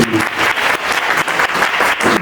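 Loud audience applause bursts out in a hall at a business motivational talk, thick continuous clapping from a crowd for a couple of seconds, close and full.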